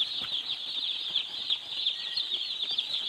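Chicks in a brooding area for raising broiler chickens, a dense continuous chorus of high-pitched peeping filling the space at moderate distance, with scattered soft rustles beneath.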